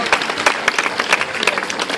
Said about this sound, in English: Give them a round of applause as they head on